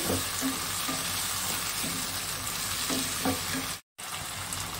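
Chili chicken frying in a pan with soy sauce, vinegar and chili sauce, a steady close sizzle with soft stirring scrapes; the noise cuts out for a moment near the end, then resumes.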